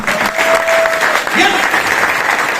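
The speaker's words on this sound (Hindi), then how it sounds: "शानदार तालियां होनी चाहिए सर के लिए" Steady applause from a seminar audience fills the room, with a faint tonal hum and some background voices mixed in.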